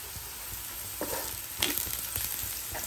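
Onions and whole spices such as fennel, cardamom, cloves, cinnamon and stone flower frying in hot oil, a steady hissing sizzle with a couple of soft stirring scrapes, close and continuous, with no talking.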